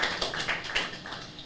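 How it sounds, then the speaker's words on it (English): Applause for the President at a formal gathering: a brief burst of clapping from an audience, dense and moderately loud, fading slightly at the end. "A round of applause for Mr. President"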